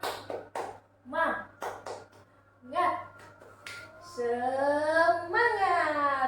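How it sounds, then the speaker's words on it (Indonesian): Primary school children do a rhythmic spirit clap, sharp claps and snaps spaced between chanted voices, ending in sustained shouting by the group. "Kita tepuk semangat."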